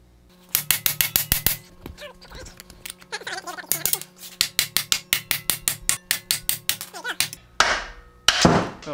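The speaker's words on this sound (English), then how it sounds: "That plug weld just knocked right off." A hammer knocks repeatedly on a Super Duty Dana 60 axle casting to break off a plug weld, sharp metallic strikes in quick rhythmic bursts with pauses, brief speech mixed in between.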